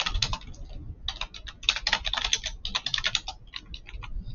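Steady clicking keystrokes on a computer keyboard, typed in quick bursts with short pauses, close and fairly quiet with no talking.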